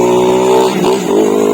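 A motorcycle engine is started with its push-button starter and settles into a steady, loud, close-up buzzing drone with a slight dip in pitch partway through.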